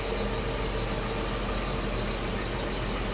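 A 1989 Mercedes-Benz 560SL convertible's stock V8 engine runs at a steady idle, a continuous dense rumble heard close up with no talking.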